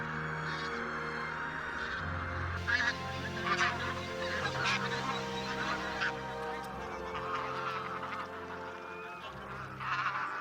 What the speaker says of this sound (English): Such large flocks are mainly composed of two goose species, the more numerous bean goose and the less numerous white-fronted goose.